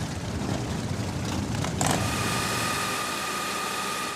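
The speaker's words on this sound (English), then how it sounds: "the real test of a Harley is what it sounds like" Harley-Davidson motorcycle engine running steadily at a low rumble, close and continuous, with a brief surge partway through.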